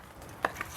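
A knife cuts meat into little wedges on a board, giving two quick, crisp chops close by against a quiet kitchen background.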